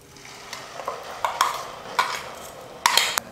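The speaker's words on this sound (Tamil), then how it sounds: "இப்போ இந்த விழுதை வந்து நான் எண்ணெயில்" Ground spice paste for chicken gravy hisses and sputters in hot oil, with sizzling bursts that swell and fade as it is stirred, close by.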